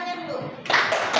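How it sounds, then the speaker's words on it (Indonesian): A vocational high school class clapping for a classmate, brief scattered handclaps that swell louder partway through, with a voice speaking early on. "Ya, tepuk tangannya dulu."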